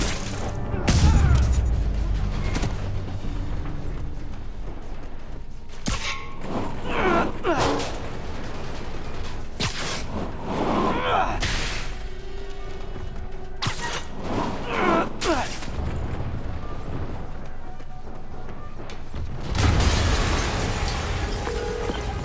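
Several booming blasts and clattering debris sounds occur amid mechanical noise and game-like effects in Marvel's Spider-Man during the Fisk Tower raid, with occasional voices.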